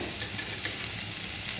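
Potatoes fry in hot oil with a dense, even sizzle that holds steady and close throughout, with no talking.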